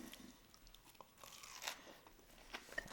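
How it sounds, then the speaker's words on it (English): Bites into a Burger King croissant breakfast sandwich topped with crunchy fried potatoes, giving a few crisp crunches and chewing sounds, fairly close and quiet, with no talking. "That crunchy fried potato, the buttery, soft, buttery croissant."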